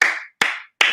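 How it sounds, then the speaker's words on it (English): Three sharp claps in quick succession, evenly spaced and close, each ringing briefly before the next, a small virtual round of applause on a podcast. "let's get a virtual round of applause"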